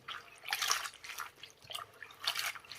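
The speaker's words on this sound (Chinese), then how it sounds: "然后下手把菠菜给它清洗干净" Hands swish and wash spinach in a large basin of salted water, producing close, intermittent splashing and sloshing bursts with drips between them.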